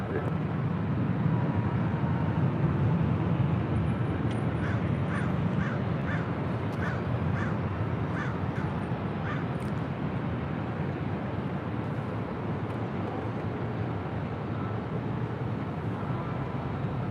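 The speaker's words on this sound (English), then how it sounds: "I can hear the birds. You see, they're laughing at me. The birds are laughing at me. The crows are laughing." Crows caw in a run of about eight evenly spaced calls, faint and distant over a steady roar of airport and construction noise outside a parking garage near LAX.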